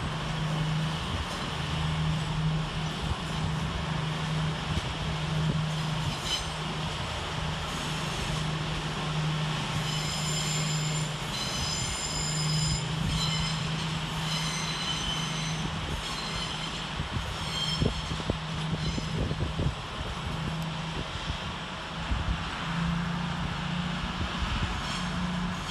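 Class 222 unit 222017 pulls out of London St Pancras station toward Cricklewood sidings, with a steady low engine drone, wheels squealing and rail clicks passing by, continuous and fairly loud for about twenty-five seconds.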